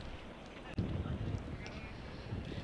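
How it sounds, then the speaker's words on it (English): Low, continuous wind buffeting on an effects microphone at a cricket ground, a muffled rumbling roar with one brief thump partway through. "Hear the wind in our effects microphone."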